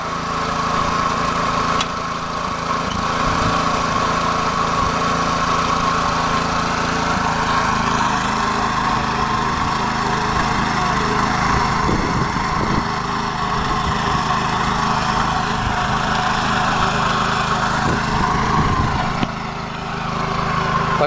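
A walk-behind tractor (motoblock) engine runs loud and close for the whole stretch, a steady droning mechanical hum with vibration and slight rises, no voices over it.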